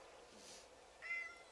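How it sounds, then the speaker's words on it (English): A house cat gives a single short, faint meow indoors, heard alone against a quiet room. "If you guys just heard, that meow was my cat Thumbs."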